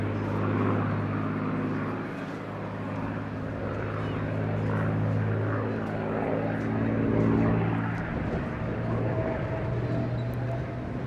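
A P-51D Mustang propeller fighter flies a display in a summer sky, its piston engine drone loud and throaty, rising and falling in pitch as it passes overhead across several seconds.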